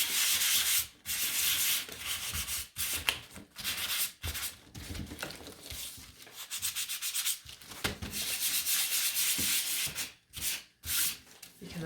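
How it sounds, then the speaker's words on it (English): Hand sanding of a wooden sign, close and steady, with rhythmic rubbing strokes and short pauses between passes. "because I'm going to sand it."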